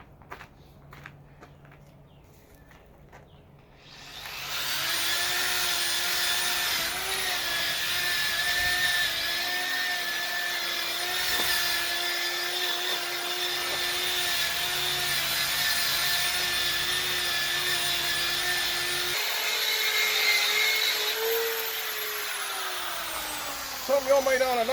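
A bench buffer fitted with wire wheels spins up after a quiet start and runs steadily with a loud, whining motor hum, then winds down near the end.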